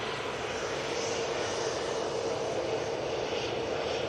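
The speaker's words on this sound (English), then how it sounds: "TUI's next on, using their 737-800." TUI Boeing 737-800 jet taking off at Manchester Airport, a continuous, even engine roar at moderate distance, steady for the whole short stretch with no talking.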